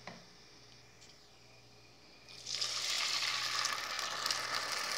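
Water is poured into rice frying in a pot for carrot pulao, a quiet low hiss abruptly giving way halfway through to a loud, bright, continuous sizzle and bubbling close by.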